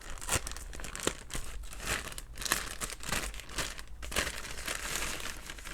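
A soldering iron handle for an Aixun T380 battery-powered soldering station is pulled from crinkly plastic packaging, giving close, irregular bursts of crumpling and tearing with no speech.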